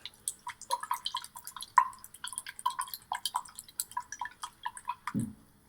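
A finger stirs water in a small container, giving close, soft irregular drips, splashes and trickles in quick succession, ending with a brief low slosh, with no talk.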